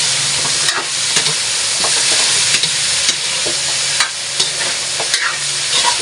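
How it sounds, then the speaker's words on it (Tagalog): Chicken with garlic and onion for Filipino chop suey sizzles loudly in a pan, a dense constant hiss marked by regular scraping stirs and small clicks of a utensil, near and without talk. "haluin lang po ito."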